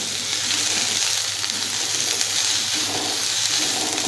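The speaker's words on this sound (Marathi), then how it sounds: "कांदा चांगला गोल्डन होईपर्यंत परतून घ्यायचा आहे" Chopped onion, with garlic, sautéing in a pan over a medium flame, giving a loud, dense, continuous frying hiss with faint stirring movement.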